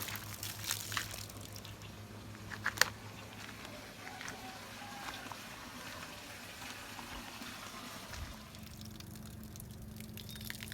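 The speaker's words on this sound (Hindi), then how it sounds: "अब इसमें हम धीरे से पानी डालेंगे।" Water poured slowly from close by onto soil where methi seeds were sown, a faint trickling and dripping running throughout, soft and steady under light outdoor background noise.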